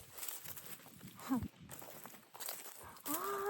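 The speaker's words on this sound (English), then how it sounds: "Look at this cow." A cow on a plot of rural land in a Ukrainian village gives a brief low moo amid outdoor rustling and shuffling footsteps, fairly faint and at a distance.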